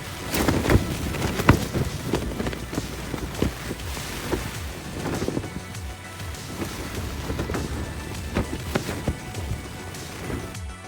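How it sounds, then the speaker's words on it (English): Rain falls in intermittent bursts on Dartmoor while strong gusts of wind buffet the surroundings, a rough, uneven wash of noise with sharp spatters and no talking. "It is brutal out there. It's properly blowy. Rain's a bit intermittent"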